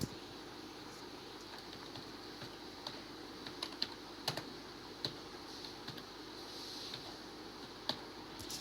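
Keystrokes tap on a computer keyboard as text is typed into a word processor, soft irregular clicks with occasional louder key presses over quiet room hiss.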